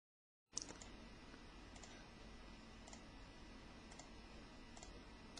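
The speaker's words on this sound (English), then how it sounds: "I'm going to start left-clicking to create individual selection points" Mouse left-clicks placing individual selection points with the polygonal lasso in Adobe Photoshop, sounding as a few light, sharp clicks spaced about a second apart over a steady low room hiss, with no voices.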